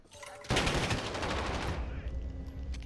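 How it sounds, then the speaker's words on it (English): Rapid automatic gunfire from a video game bursts in loud and close and keeps up a dense stream of shots for over a second before it thins into softer scattered noise. "I shot like a crazy man there."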